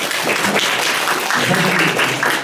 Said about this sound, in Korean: 다시 한 번 진심 감사의 박수 한번 부탁드립니다